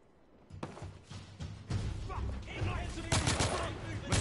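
Shotgun blasts boom in the video game The Order 1886, several heavy rapid shots layered with other gunfire and impacts and growing louder toward the end, with brief game voices beneath.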